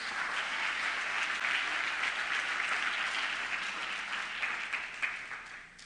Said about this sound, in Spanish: Alguien diga amén y aplauda al Señor con fuerza.